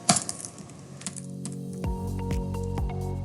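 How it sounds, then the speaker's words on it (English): Keyboard typing as a pip install command is entered in a terminal: quick clicky keystrokes in an irregular run, close and fairly clear, with no talking. "So in the terminal, you just type pip pipe install matplotlib"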